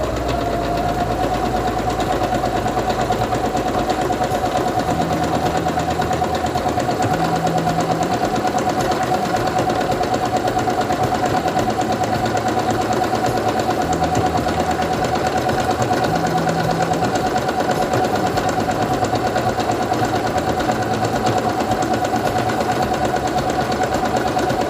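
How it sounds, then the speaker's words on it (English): Singer Quantum Stylist 9960 computerized portable sewing machine running steadily through fabric for a long stretch, a constant motor hum with a fast needle chatter, close and alone. "I'm going to take my fabric and put it under the presser foot, lower it, and begin sewing."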